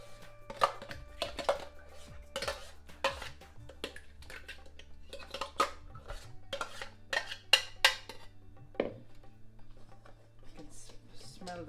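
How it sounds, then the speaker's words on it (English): Spiced masala paste is pressed and scraped through a metal sieve in a home kitchen, giving faint, scattered metallic clinks, scrapes and taps over a low steady hum. "what we need to do is we need to put all this masala through a sieve"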